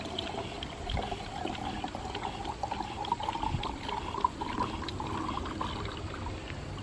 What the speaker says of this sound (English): This is clean water coming out of the bottom, so it doesn't really matter if we get it everywhere.